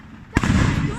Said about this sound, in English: So there's ground fireworks.